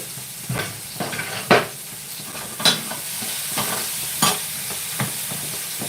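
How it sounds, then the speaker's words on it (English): Curry being stirred in a pan on the stove, steady sizzling frying hiss with repeated scraping and clinking of a spoon against the pan at irregular intervals, no talking. "keep stirring your curry as well"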